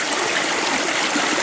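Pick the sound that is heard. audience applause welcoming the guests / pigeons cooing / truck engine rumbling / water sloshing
water sloshing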